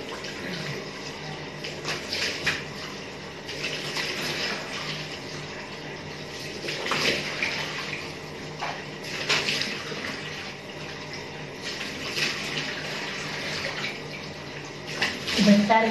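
Tap water runs steadily into a basin in an indoor bathroom, a continuous hiss with occasional splashes, with brief talking over it.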